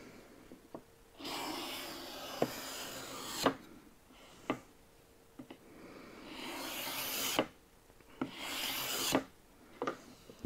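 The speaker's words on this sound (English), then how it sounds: "With the card scrapers, I can lift it a little bit higher, and I might be able to get a better result." Card scraper drawn across the wood of an antique dressing table during restoration, giving several loud, rasping strokes in bursts with short pauses and light knocks between them, close up.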